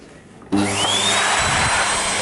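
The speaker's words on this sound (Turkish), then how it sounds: "bu uç kısımdaki süpürgeyi de fırçalarını çıkartaraktan şöyle tekrardan çalıştıraraktan göstereceğim size" A Siemens Z 2.0 bagged vacuum cleaner, its brushes removed, switches on abruptly and runs loud and close with a steady rushing roar and a rising motor whine that settles into a constant high tone.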